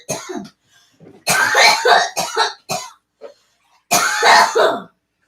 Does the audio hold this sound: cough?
yes